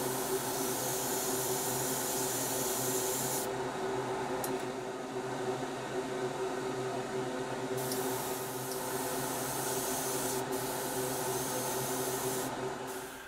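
Metallic paint sprayed onto plastic scale model parts gives a steady, close, continuous hiss with a faint mechanical hum beneath, holding level throughout with no talking.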